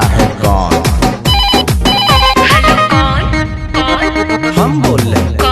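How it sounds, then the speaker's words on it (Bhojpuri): Telephone ringtone melody rings out within a loud Bhojpuri song, its repeated electronic tones layered over dense beats and instruments, with no talking. "लगा ले फिर से फोन, देखते हैं साला उठाता है कौन"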